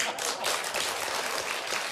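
Audience applause, a dense burst of many hands clapping steadily for two seconds, close and fairly loud with no voices on top.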